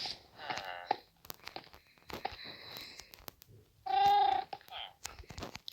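Several short cat meows sound from Minecraft, with one longer, louder meow near the end, among quiet clicks and gaps of near silence.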